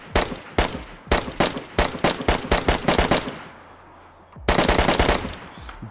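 Rapid bursts of automatic AUG rifle fire in the DayZ video game on PC with a weapons mod, loud close shots in quick strings with a short lull before a final dense burst.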